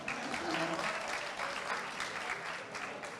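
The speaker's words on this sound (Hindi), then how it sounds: "एक के लिए तालियां बजा दें" At a mushaira poetry recital in Lahore, an audience claps in a brief, steady burst of applause, fairly distant and soft, lasting about three seconds with no talk over it.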